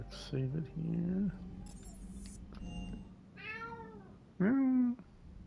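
A pet cat meows several times, the cries close and loud between stretches of quieter room sound and game noise; a person's voice may also make meow-like sounds among them.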